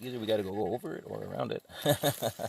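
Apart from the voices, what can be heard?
No distinct noise like a dog, phone or traffic.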